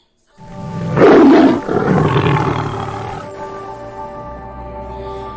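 A lion roars loudly and close by, one deep rumbling roar that swells and then trails off into a lower growl, heard alone with no talk.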